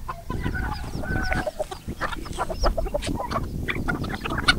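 Chickens cluck and squawk busily while being scattered feed in the morning, overlapping calls from several birds close by, bursts rising and falling without pause.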